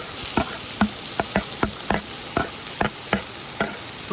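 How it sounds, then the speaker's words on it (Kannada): Tomato, onion and green chilli fry in ghee with a steady hiss, while a spoon scrapes the pan in sharp, regular strokes roughly every half second, close and clear with no talking. "ಎಲ್ಲ ಫ್ರೈ ಆಗ್ಬೇಕು ಚೆನ್ನಾಗಿ."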